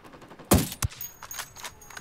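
A short burst of video game gunfire in Ghost Recon Wildlands: two sharp shots close together, then a few fainter cracks trailing off.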